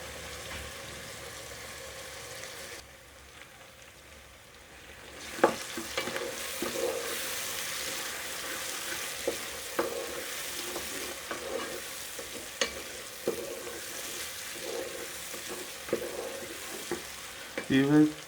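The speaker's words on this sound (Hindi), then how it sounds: "हमारा मसाला भुना जा रहा है।" Masala for a chicken do pyaza gravy fries and is stirred in a pan with onions. A steady sizzle runs throughout, with a quieter dip early on. Spoon scrapes and clinks stand out near the end.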